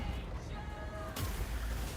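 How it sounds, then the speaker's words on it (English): A battlefield explosion in the strategy video game Total War: Warhammer 2 bursts out suddenly and then fades into a lingering, noisy rumble over the game's constant background din. "Oh, no, that was just an explosion."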